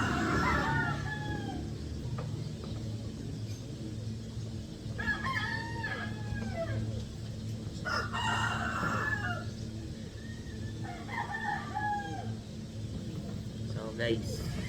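Several roosters crow in repeated calls, some near and some farther off, over a steady low rumble of background noise, with someone talking briefly.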